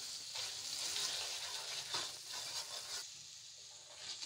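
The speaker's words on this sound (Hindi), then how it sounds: "इसको हल्का सा सौते करेंगे।" Sauce sautés in hot oil for white chana chaat, a faint but steady sizzle with surges and scraping as it is stirred, and no voices.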